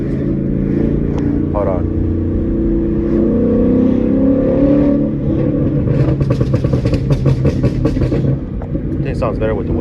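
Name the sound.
E85 Ford Mustang GT accelerating hard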